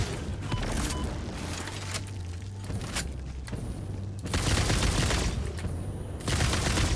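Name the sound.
gun firing in Satisfactory video game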